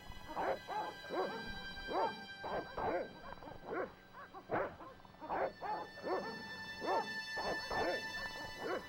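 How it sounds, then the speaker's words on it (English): Dogs in the Broken Sword video game bark repeatedly in a steady, rhythmic series of sharp woofs with a few yips, moderately close and clear over nine seconds. "Oh, that's where the dogs are."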